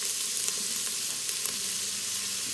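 Onion sizzling and frying steadily in plain vegetable oil inside an Instant Pot pressure cooker, a continuous close crackle with a few brighter pops and no talking.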